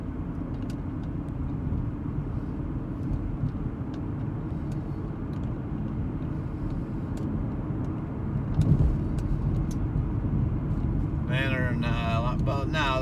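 Car driving along a residential road in Cleveland, Tennessee, a steady broadband road and engine rumble throughout, with a faint voice briefly near the end.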